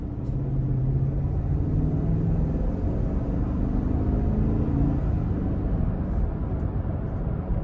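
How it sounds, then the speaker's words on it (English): Interior of a 2022 GMC Yukon XL SLT under throttle, with a steady low engine and road rumble filling the cabin. A faint engine tone rises in pitch as the SUV accelerates, and no one speaks. "Gonna give it a little throttle here."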